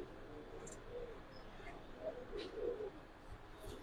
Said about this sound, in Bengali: সব টাইপের কবুতরই আছে, মানে সব ধরনের কবুতর আছে